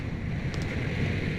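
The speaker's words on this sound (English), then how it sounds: "Man, that is windy." Wind blowing in the stealth game Thief 2X, a loud, steady rushing howl with a deep low-end roar that holds throughout, with no voices.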